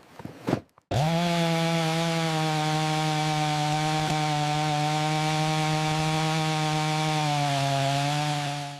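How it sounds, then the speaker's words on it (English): A large chainsaw roars at a steady high pitch after a brief pull-start sputter, running close and loud throughout, used to break down wood while building a small basement house in a forest. "To start breaking down the interior, we need the large chainsaw."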